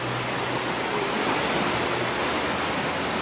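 Steady downpour of heavy rain during a house flood in the Philippines, a dense, even hissing wash that holds constant and fills the space, with no voices.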